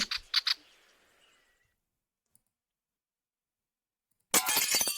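Glass breaks in a sharp, close cluster of a few crashes and tinkling fragments, then a long silence before a loud, dense burst of noise returns.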